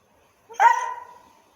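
A single sharp bark from a black Staffordshire pit bull rings out close by on command, followed by a brief trailing whine, with silence before it.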